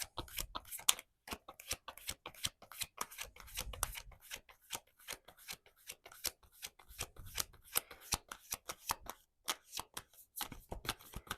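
Tarot cards being shuffled and drawn by hand, a rapid run of crisp riffling and flicking snaps repeating through the whole stretch, close and clear with no talking.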